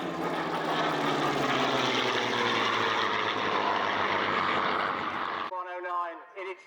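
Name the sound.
Spitfire Mark 8 and Messerschmitt 109 aircraft flying at air show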